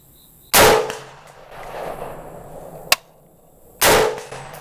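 A Colt 605 Dissipator rifle fires outdoors at targets, with two loud, sharp shots about three seconds apart, each trailing off in a decaying echo, and a faint, brief click or impact sound between them.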